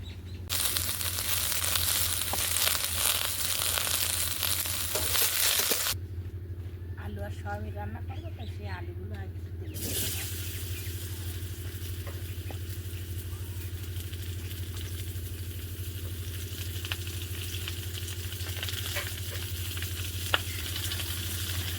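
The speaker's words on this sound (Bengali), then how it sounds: "তেল দিই সোয়াবিনটা ভেজে নেব" Soybean chunks fry in hot oil, giving a steady loud sizzle that fills most of the stretch, with a short quieter break near the middle.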